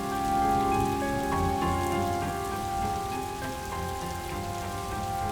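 Rain patters steadily on a surface, a dense, even hiss of drops under sustained tonal background music, with no voices during the clip.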